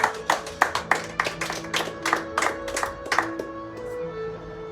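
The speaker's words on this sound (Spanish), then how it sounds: "Dele palmas al Señor." Rhythmic clapping from a church congregation during a Spanish-language sermon, a dozen or so crisp, evenly spaced claps over a sustained musical tone, then fading out.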